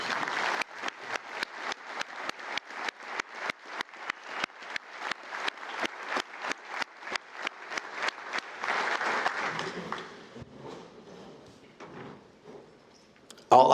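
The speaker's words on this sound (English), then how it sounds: "Let's give them some applause." Audience at a fall breakfast claps for veterans in long, regular rhythmic rounds of sharp beats, steady and moderately close, fading out near the end.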